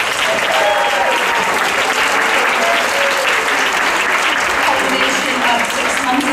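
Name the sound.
audience applause for finalists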